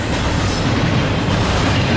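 A KCS intermodal freight train rolling east through Austell, Georgia, heard close and loud as a steady, continuous roar of wheels and railcars with faint clickety-clack, no voices.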